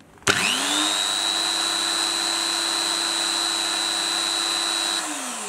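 An electric drill machine runs steadily at full speed for about five seconds after a sharp switch-on click, with a loud, close, sustained whine that winds down when power cuts out at the end, with no talking.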